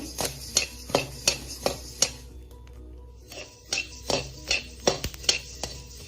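A metal spoon stirring and scraping while dry-roasting coriander seeds in a pan for puliyogare gojju, giving a regular clinking rhythm of about two strokes per second, a short pause, then more stirring, close and clear.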